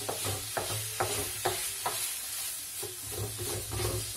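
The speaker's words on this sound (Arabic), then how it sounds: "نحركوها مزيان باش يعني نفتوها" Kefta meatballs sizzle in a hot pan while a utensil stirs them, giving soft regular scraping strokes roughly every half second over a constant frying hiss, close and fairly quiet.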